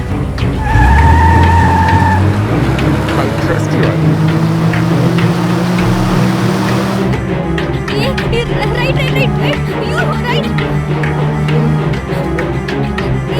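A car tears along in a tense movie scene, its engine revving and rising in pitch while tires skid and squeal, loud and close, with a shift in the road noise partway through and no one speaking.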